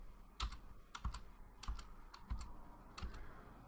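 Computer keyboard keys pressed one at a time, five crisp, close clicks spaced roughly evenly apart with quiet gaps between, no voices.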